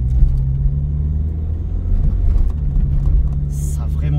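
Peugeot 205 engine under acceleration while driving, a steady low rumble with a faint whine, continuous and fairly loud from inside the car; a passenger talks over it.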